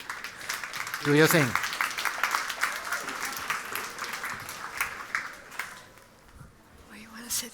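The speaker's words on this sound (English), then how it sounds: "A warm applause for the panel." Audience applause welcoming a panel onto the stage at a talk on nature in modern interiors, clapping that swells and gradually thins out, with voices speaking over it.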